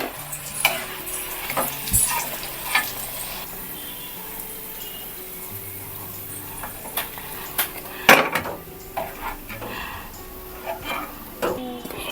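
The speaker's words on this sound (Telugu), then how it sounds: "సెకండ్ వాయి కూడా ఫ్రై అయిందండి" Pieces of chicken 65 fry in hot oil with a soft, steady sizzle, broken by occasional clinks and scrapes of a utensil against the pan.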